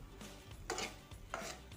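A steel spatula scrapes and stirs thickening mango coconut barfi mixture in a kadai, giving two distinct rasping strokes close by over a low background hum.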